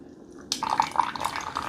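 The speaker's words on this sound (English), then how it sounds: "It opens it up, and now we're brewing hot coffee." Hot coffee streaming from a Mr. Coffee Perfect Brew coffee maker over ice, a sudden onset of splashing, dripping liquid that continues steadily after a quiet start.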